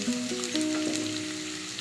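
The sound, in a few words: grated coconut added to a frying pan, sizzling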